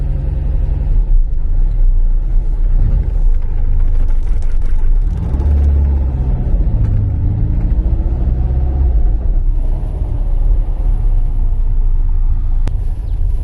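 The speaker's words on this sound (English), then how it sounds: "The exhaust may be standard, but the car does have a really nice full sound." A Porsche 914/4 engine with standard exhaust hums and rumbles steadily from inside the cabin while driving, its tone rising and shifting as the vehicle moves, with no voices.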